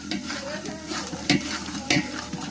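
Onion fries in a large pan at a roadside dhaba kitchen, with a constant close sizzle broken by loud scraping stirs of a ladle, several sharp strokes over the frying.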